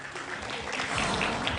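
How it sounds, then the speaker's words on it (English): A conference audience claps in a steady, dense wash of applause that stays moderately loud throughout, with no speech over it. "Taaliyan zordar bajni chahiye."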